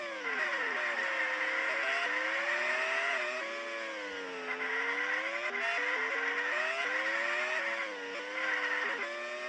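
Race cars in the 2D racing game Unlimited Racing 2D, engine tones climbing and falling as the cars shift and pass, loud and continuous with no voices.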